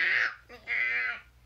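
A person imitates a cat's annoying meow with two drawn-out, nasal, high-pitched wails, the second longer, close and loud with no other talk.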